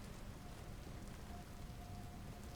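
Steady rain falls in the survival-crafting game Vintage Story, a dense even patter that holds without a break under a faint thin tone, with no talking.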